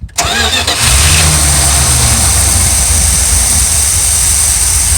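A full-time RV's engine cranks briefly and catches, then settles into a loud, steady idle that runs on alone for several seconds.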